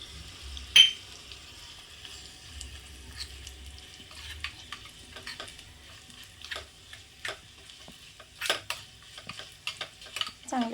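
A spoon stirs turmeric and coriander-cumin powder into a cooked mixture in a pan after the gas is switched off: faint scraping and soft clinks against the pan, growing into irregular taps near the end, with a quiet hiss underneath.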